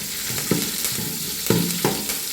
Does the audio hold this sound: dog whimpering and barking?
no